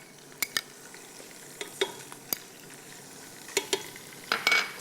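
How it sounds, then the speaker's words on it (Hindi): Garlic ginger paste frying in a pan, with scattered sharp clinks and scrapes of stirring over a faint steady sizzle, close and fairly quiet, no talking. "यहाँ पे हम शामिल करेंगे लहसुन अदरक का पेस्ट,"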